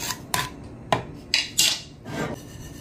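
Sesame salt is roasted and stirred in a pan, with a spatula scraping the metal in several sharp rasping strokes and brief pauses between them, close and clear with no talking.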